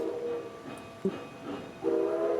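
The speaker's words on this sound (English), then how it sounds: "And there goes that whistle again." A train whistle sounds in a video game set around a train depot: two drawn-out tonal blasts, the second louder, with a brief clank between them and a low rumble underneath.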